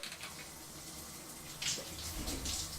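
Shower water runs in a home bathroom, a faint steady hiss that swells with a few louder splashes toward the end.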